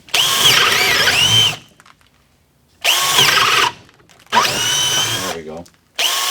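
A KIMO T-20 cordless drill runs a freshly sharpened bit into a 2x6 board in three loud bursts separated by short silences, the motor whining up and cutting off each time.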